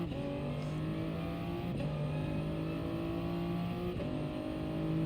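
Race car engines in a Gran Turismo Sport race, rolling toward the start behind a Volkswagen Beetle among Subaru Imprezas: a steady, droning engine note held at constant revs, with a couple of brief shifts in pitch.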